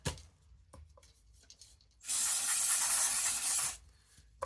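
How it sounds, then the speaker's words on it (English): Can of carburetor cleaner sprayed while cleaning a JCB Beaver: after faint rubbing and handling noises, one steady, loud, close hiss lasts nearly two seconds, then cuts off sharply. "Bit of carb clean will do."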